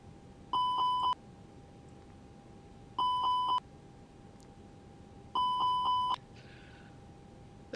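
Toliss A320neo cockpit warning chimes in X-Plane 12, three identical bursts of rapid repeating bell-like dings spaced a couple of seconds apart, loud and clear over a quiet hum.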